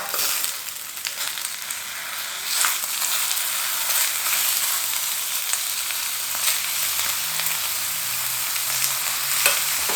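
Butter sizzles and crackles steadily in a hot pan with charred cabbage, a dense, even frying hiss lasting throughout with small pops and no talk.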